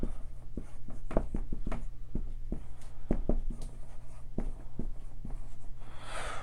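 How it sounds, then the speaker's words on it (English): Marker writing on a board: a series of quick squeaky strokes and taps in irregular bursts, close and clear over a low steady hum, with no talking. "I'll just write bonds next to it"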